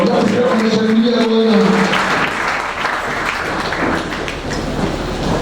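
Applause from a church congregation swells as clapping and cheering to acclaim the Lord. It begins under a man's sung or spoken voice and carries on as a dense, steady patter of hands.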